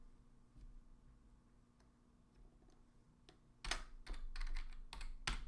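Typing on a computer keyboard in a quiet room. A few faint, scattered clicks give way to a close burst of rapid keystrokes in the final two seconds.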